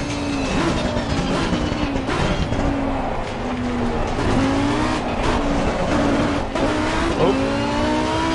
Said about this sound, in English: Race cars are supposed to be loud.